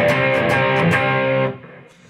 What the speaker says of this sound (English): I've got some distortion going here.